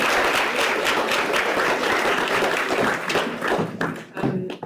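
Audience applause for a guest speaker introduced at a lecture, a steady wash of clapping from a room full of people that holds for several seconds and then thins into scattered claps near the end.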